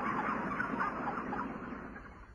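A crowded flock of broiler chickens, bred for meat, fills a poultry house with a dense, continuous din of overlapping clucks and chatter that eases slightly toward the end.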